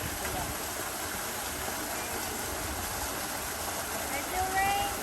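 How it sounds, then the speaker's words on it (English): Hot spring water in Tuscany flows and splashes with a steady, broadband rush, constant and fairly close, with faint voices here and there. "Hot spring water."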